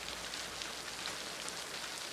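Steady rain falls as a dense, even hiss of drops on surfaces, continuous and fairly close, with no voices.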